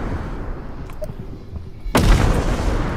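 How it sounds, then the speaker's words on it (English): A grenade creature in the co-op horror game Content Warning blows itself up with a single sudden loud blast that lingers as a rumbling roar after a quieter stretch. "The grenade creature blew itself up again."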